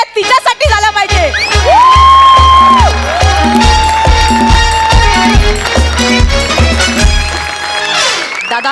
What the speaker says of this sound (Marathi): एकदा जोरदार टाळ्या तिच्यासाठी झाल्या पाहिजे